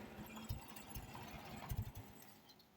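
A Super A engine fitted with a brand new carburetor idles slow and smooth, giving a steady low chugging rhythm close by, with no voices.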